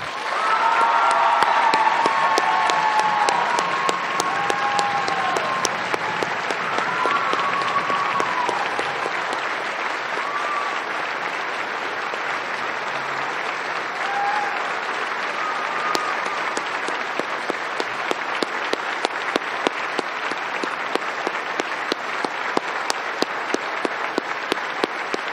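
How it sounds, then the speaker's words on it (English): A school senior showcase audience gives a long round of applause, dense clapping from a crowd that starts strong, gradually thins, and ends in scattered sharper claps. "I ask for all of you to offer up a round of applause for Mr."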